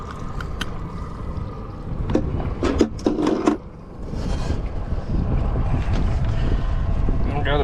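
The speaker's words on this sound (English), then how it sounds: "Still having to run this motor." An outboard-style boat motor drones steadily and close while someone fishes from the boat, a continuous rumbling hum with brief knocks and a short lull partway through.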